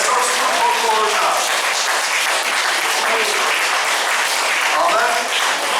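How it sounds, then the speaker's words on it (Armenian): Congregation applause at an Armenian church service on a holy day, steady dense clapping from many hands filling the room throughout, with faint voices underneath. "եկեք ծափ տանք"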